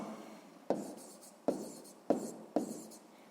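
Pen or pencil writing down an answer to a sixth-grade math exercise, four sharp strokes or taps each followed by a short scratching trail, close and fairly quiet.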